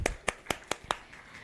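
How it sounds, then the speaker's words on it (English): A brief second round of clapping at the Sri Lankan hearing aid launch: five distinct hand claps in a quick, even rhythm, faint, close and alone before the room goes quiet. "Shall we have another round of applause?"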